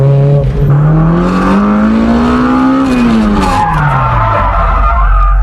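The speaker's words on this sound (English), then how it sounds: "I'm pulling the e-brake too long, letting the car slide too much" A car drifts and slides with the e-brake held too long, tyres squealing loudly and continuously while the engine drones and shifts in pitch, close and intense throughout with no talk.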